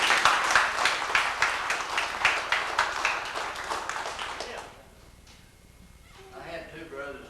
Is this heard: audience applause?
yes